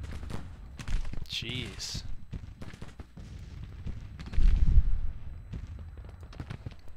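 A four-gun artillery battery fires in a Civil War strategy game, with scattered sharp booms and crackling reports, one heavier rumbling blast, and a voice speaking over the gunfire.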